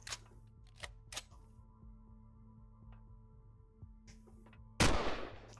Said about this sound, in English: Nope, there's still one firing down here.